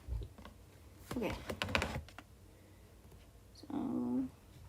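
Quick bursts of typing on a computer keyboard, two short clusters of close clicks separated by a pause, with a little talking in between.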